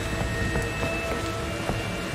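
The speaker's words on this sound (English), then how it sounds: "Why the fuck is it raining blood" Steady rain patters and hisses in the horror game Outlast 2, a dense even wash of falling drops with no talking.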